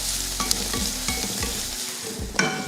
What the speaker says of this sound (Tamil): இதை நல்லா வதக்கிடலாம்.